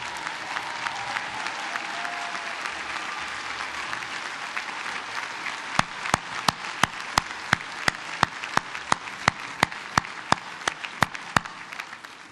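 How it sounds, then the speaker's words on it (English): Applause from a commencement crowd at a law school graduation, a broad sustained clapping from many hands, with a single nearby clapper adding sharp, evenly spaced claps over the later half. "Would all the spouses, common law or otherwise, plus their children, please stand and accept the grateful applause."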